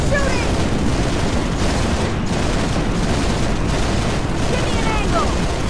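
Combat in the video game Halo Reach: loud, sustained gunfire and booming blasts forming a continuous roar, with voices speaking over the fight.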